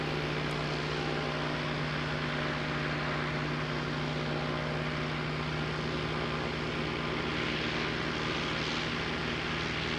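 An Airbus A380 at Christchurch Airport gives a steady, continuous jet roar with a constant engine hum underneath, holding at an even level for the whole stretch with no voices.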